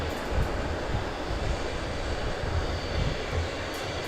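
easyJet jet airliners at Southend Airport give a steady, broadband engine roar from some distance, a continuous rumble with no talk over it.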